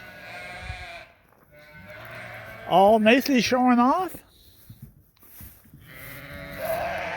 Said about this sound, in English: we got a couple sheep here that are going to visit us. A couple beautiful Suffolks.